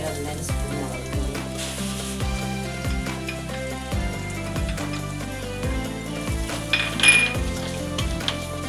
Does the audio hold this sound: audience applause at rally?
no